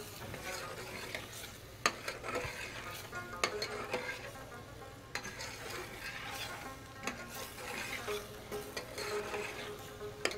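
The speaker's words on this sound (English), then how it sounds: "make sure that you keep on stirring" Curry mixed with four tablespoons of yogurt and stirred steadily in a pan. A continuous sizzle carries repeated scraping strokes and occasional sharp clinks of the spoon against the pan. No voices are heard.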